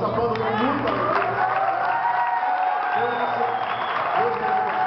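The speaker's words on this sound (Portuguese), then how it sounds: "Aplaudam, mas aplaudam com muita alegria." Church congregation applauding together in a hall, a dense steady wash of clapping with a few cheers and voices mixed in throughout.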